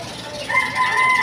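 A rooster crows loudly and close by in a short outdoor burst, its call rising and holding over faint background clucking.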